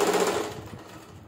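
A sewing machine stitches along the back neck of a suit, its close, fast mechanical whirr trailing off as the run slows and stops within about a second.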